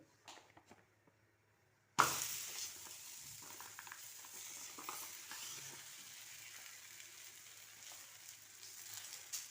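Akki rotti, a rice flatbread, lands on a hot pan after two seconds of near silence, setting off a sudden sizzle that fades to a soft, steady crackle with faint scraping sounds.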